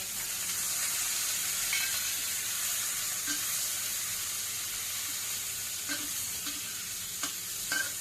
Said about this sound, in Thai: เดี๋ยวก็มาผัดน้ำมันใส่ไข่ทันที